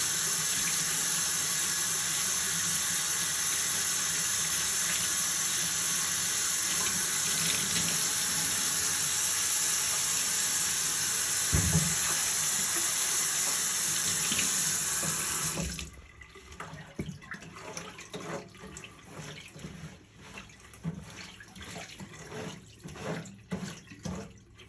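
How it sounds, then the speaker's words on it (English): Water from a faucet runs steadily over a furnace blower motor part being rinsed in a sink, a loud continuous gush that cuts off around two-thirds through, leaving light drips and handling noises. "So we're just going to rinse this off."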